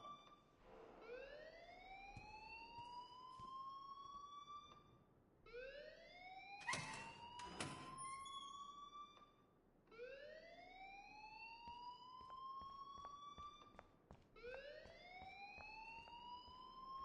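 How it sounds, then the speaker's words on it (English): A school fire alarm wailing in the video game Life is Strange, rising electronic sweeps repeating every few seconds in a steady cycle, loud and alone with no talking. "please turn off that alarm since that's your job."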